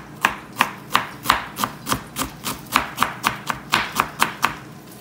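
A knife chops red cabbage on a board for seafood tacos, landing in about fourteen sharp, evenly spaced strokes that sound close and clear, with no talking.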